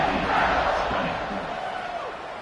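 Stadium crowd in the College Football 26 video game, a steady broad roar of many voices that swells slightly early then holds at a moderate level, with a faint announcer-like voice underneath.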